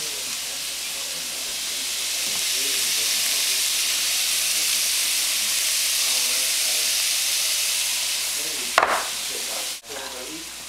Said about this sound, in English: While I continue to brown the ground beef and continue to fry the onions